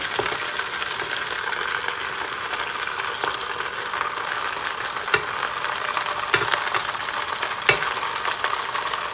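Vegetables for curry oxtails are tossed with a big spoon inside a Ninja Foodi pressure cooker pot, giving a steady, close hissing rustle punctuated by occasional light clinks of the spoon against the pot, with no talk.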